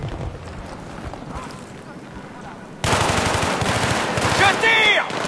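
Automatic gunfire rattles in rapid bursts during a co-op mission in the video game Battlefield 3, growing louder and denser partway through, with a voice talking faintly underneath.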